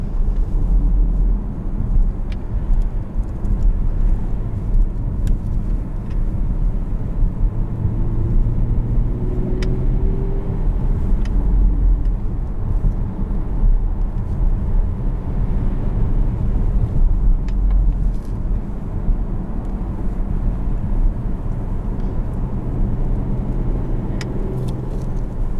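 A 2018 Porsche Panamera 4S engine drones steadily from inside while driving, a continuous low rumble with mild rises in revs and no talking over it.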